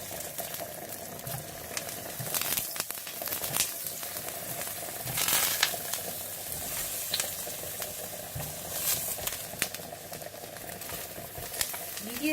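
Eggplant slices fry in hot oil for baingan borani, a steady broadband sizzle with soft bubbling and occasional louder crackles and utensil scrapes throughout.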